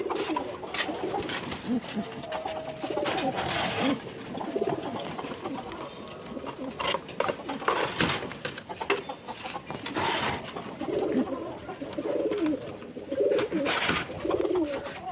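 Pigeons coo repeatedly in a loft where young squabs have hatched, soft rolling calls overlapping at close range, with scattered rustles and clatters and occasional quiet voices in the background.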